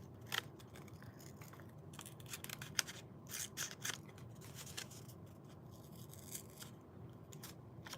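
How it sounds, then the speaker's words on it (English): Scissors snipping through a paper sticker, a series of quiet, irregular close-up cuts and small scrapes with short pauses between them. "Cutting this one out. Yeah. I hate these scissors."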